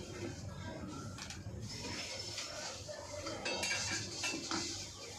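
New dishes and utensils being handled in a freshly furnished flat, steady clinking and clattering of pots, plates and cutlery with a few brighter metallic knocks, under faint background voices.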